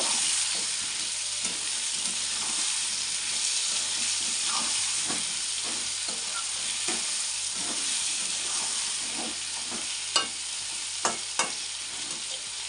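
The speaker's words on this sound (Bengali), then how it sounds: "লবণ দিয়ে দিলাম, দিয়ে এখন আলুটারে লাল লাল করে একটু ভেজে নেব।" Potatoes fry and sizzle in a pan with salt added, a steady close hiss running throughout, broken by soft scraping stirs and a few sharp clinks of the spoon against the pan near the end.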